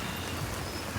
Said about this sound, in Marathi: पाऊस सुरू झाला. पाऊस बघ किती आहे